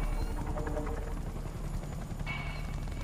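A helicopter in Battlefield: Bad Company 2 drones with a steady low rotor thump and engine rumble throughout, loud and close, with faint distant gunfire mixed in.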